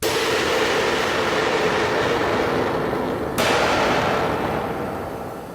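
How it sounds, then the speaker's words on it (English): A cymbal processed with the Omnidrums plugin swells into a dense, roaring wash of noise that holds loud and sustained, with a sharp re-strike partway through before it starts to fade. "It just builds to a huge crescendo. Sounds absolutely brilliant on a cymbal."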